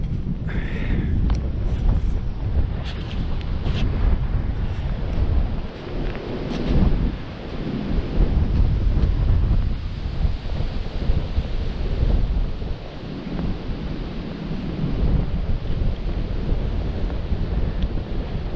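Strong wind roars and buffets the microphone in steady gusts on the East River Trail in March, with no voices.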